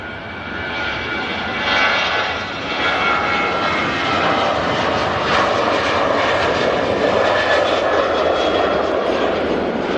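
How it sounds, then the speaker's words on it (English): A Ryanair UK Boeing 737-800 jet takes off bound for Mahon, its engines a loud, steady broadband roar that holds without a break for the full ten seconds, with no voices over it. "Yeah, Ryanair UK heading off to Mahon,"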